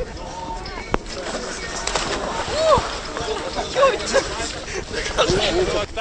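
A man plunges into icy water during outdoor Epiphany (Jordan) bathing in Stryi, with splashes under the crowd's chatter, birds calling and people talking nearby.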